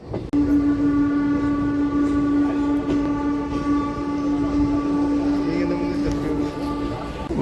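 A DEMU passenger train runs steadily on the Nandyala to Kurnool line, a loud continuous engine drone with a sustained horn tone and rolling rail noise throughout, heard from on board.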